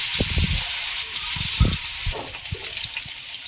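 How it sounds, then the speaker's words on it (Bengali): Hilsa fish sizzle lightly in hot oil with a steady, bright hiss, broken now and then by soft knocks and clatter. "খুব একটা লাল করে ভাজার দরকার নেই, হালকা হালকা ভাজি।"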